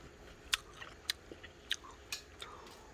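Crunchy bites of fried minnows eaten with green onion: five or six sharp, crisp crunches spaced roughly half a second apart, close up and fairly quiet, with no talking.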